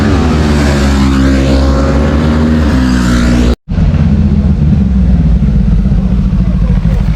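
Italjet Dragster 700 Twin scooter on the Imola race track, its engine roaring loud and close at high revs, cutting out sharply for a moment, then returning with strong wind rush; no talking.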